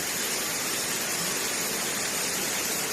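Waterfall at Tham Soda cave in Nong Phok, Roi Et, Thailand, water spilling down from above: a steady, dense broadband roar of falling water, constant and close, with no voices.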